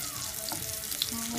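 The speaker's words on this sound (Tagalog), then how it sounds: "Sausage for dinner. Cooked by my honey." Sausage fries in a pan with a constant close sizzle and crackle and a few soft pops, and nobody speaks.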